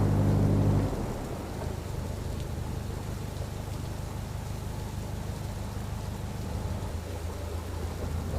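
Heavy rain and a rumbling thunderstorm at Napton Locks, heard from a narrowboat wedged in a weir; a steady broadband wash of rain with low rumble continues throughout, with a brief louder low hum at the start.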